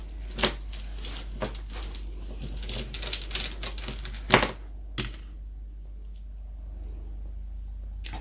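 Divination dice are rolled during a tarot reading, giving scattered sharp clicks and taps at irregular intervals, one louder clatter near the middle and a final click, over a quiet hum.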